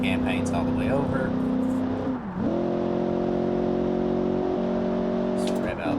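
A car engine in BeamNG revs out third gear, its steady tone climbing in pitch. It drops briefly at the shift, then holds a higher, sustained whine close and loud.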